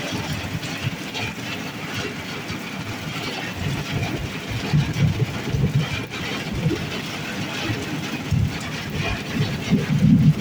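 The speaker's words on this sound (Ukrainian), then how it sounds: "ливень" A heavy downpour during a storm drums steadily as a dense, rumbling roar of falling rain, constant and fairly loud throughout, with no voices.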